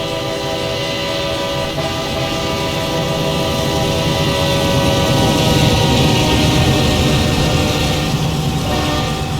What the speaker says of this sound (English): the engine noise is very much too loud in comparison to any other noise whatsoever